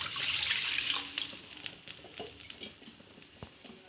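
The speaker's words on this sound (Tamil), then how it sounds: "இதில் 3 கப் அளவுக்கு நான் தண்ணி சேர்க்குறேன்." Water poured from a cup into a pan for Tamil-style rava kesari, a fairly loud steady splashing stream at first that thins into scattered drips and light patter.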